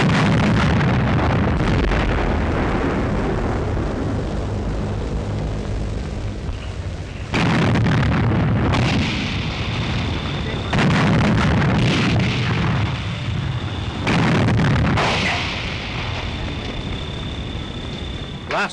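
Artillery bombardment of Warsaw during the 1939 siege, with repeated heavy booms and rumbling blasts, several sharp impacts arriving in bursts over constant low wind-like roar.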